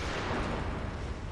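A dense, continuous barrage of booming gunfire and low rumbling blasts in the video game Bloodborne, loud and close, with no voices over it.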